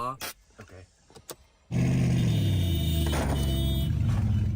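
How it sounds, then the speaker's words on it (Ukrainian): A Mercedes G63 engine cranks and catches while jump-started from a separate battery, then settles into a loud, steady idle after some brief talk and clicks beforehand. "Так що зараз ми заводимо машину від цього акумулятора."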